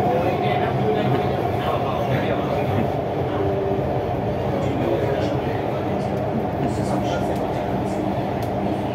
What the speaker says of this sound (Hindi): यह है दिल्ली की मेट्रो अंडरग्राउंड